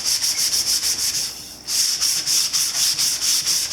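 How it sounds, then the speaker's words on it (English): Steady, rhythmic scratchy rasping of a sanding block rubbed back and forth, sanding varnish off a wooden war hammer handle, close and loud, with a brief pause midway. "I'm just going to start sanding down the varnish off of this handle"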